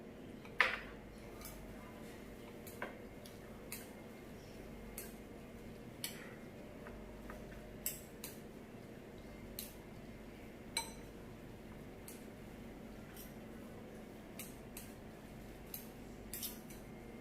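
Noodles with chili tauco and chili vinegar are mixed with cutlery, giving sparse, faint metallic clinks and taps at irregular intervals over a quiet background.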